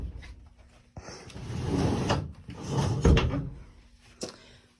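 Sliding barn doors on a pantry roll along their track with a rumbling scrape, two long sweeping movements broken by sharp knocks as they stop, close and fairly loud with no talk.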